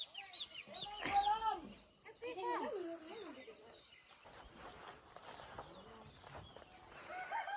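A rooster crows nearby in a village in Ghachok, Nepal, its call rising and falling, over a faint insect chirr, with soft talking and rustling afterward.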